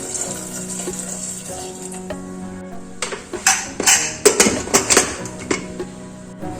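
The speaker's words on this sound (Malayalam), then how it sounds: "ഇനി ഇത് വേവാൻ ആവശ്യമായിട്ടുള്ള വെള്ളം ഒഴിച്ചിട്ട് ഇതൊന്ന് വേവിച്ചെടുക്കണം." Water splashes and trickles into a cooking pot of cucumber and cowpeas, with clinks and rattles of cookware building toward the end over a steady kitchen hum.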